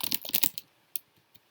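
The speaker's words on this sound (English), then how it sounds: "I'm just typing nonsense here." A rapid burst of keystrokes on a computer keyboard, then a pause, followed by a few isolated clicks, close and clear with no talking.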